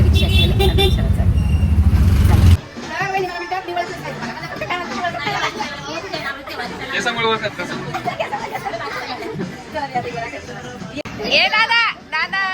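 An auto rickshaw carries passengers through town traffic. Loud engine rumble opens, then busy street noise with scattered horn toots plays under near-constant chatter from people talking.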